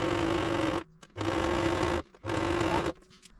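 A sewing machine stitches a car gearshift gaiter boot for a Land Rover LR3 in three steady whirring bursts, each under a second, with short quiet pauses between them, heard up close.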